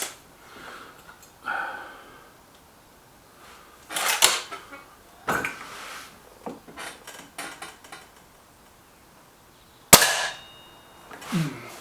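Air rifle shots from an SMK Mod19 or a Webley VMX Quantum during target shooting. Sharp, fairly close cracks and clatters appear as separate bursts with quiet gaps between them, and one sudden loud snap lands near the end.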